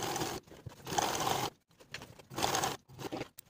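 A sewing machine stitches a trouser fly facing to its seam allowance in two bursts of fast, even whirring, each followed by a short pause, close and fairly quiet.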